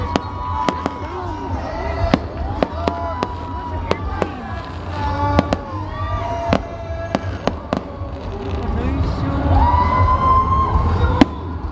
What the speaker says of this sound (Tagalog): Uy, fireworks!